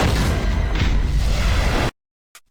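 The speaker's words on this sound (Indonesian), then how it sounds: "Bom itu meledak beberapa detik kemudian menciptakan gelombang api di dalam lorong lift." A small bomb goes off inside a lift shaft, a loud roaring blast with a rushing fire wave that fills the space before cutting off abruptly, then a brief faint knock.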